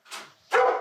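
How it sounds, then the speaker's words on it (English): An excited dog barks twice at close range, a short bark followed by a louder, fuller one, with no other sound around it. "Now the dog is going crazy."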